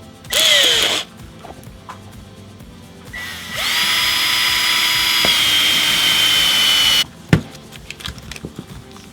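A power drill bores a hole for a hitch-mounted backup camera mount, running close by in a short burst and then a longer, steady whining run before stopping with a clack.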